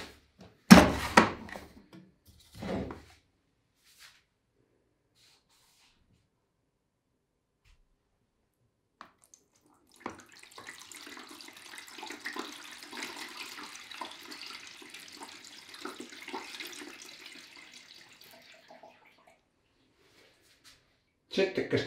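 Water is poured from a container into the empty drum of a Bosch Serie 6 washing machine, a steady splashing stream lasting several seconds after a brief clatter, heard close by.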